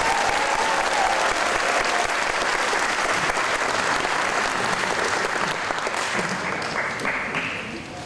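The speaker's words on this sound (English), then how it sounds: "Let's give Wally Polly Doodle one more round of applause" Loud, sustained applause from a large audience at a summer music camp concert, steady clapping that fades slightly toward the end.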